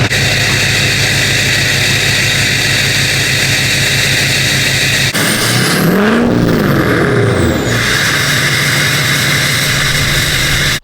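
A Duramax diesel truck with a 9-blade turbo roars loudly and continuously, the turbo whistle and spool sweeping up and down as the engine revs midway.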